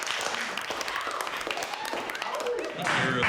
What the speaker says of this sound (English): Your applause might be a little bit premature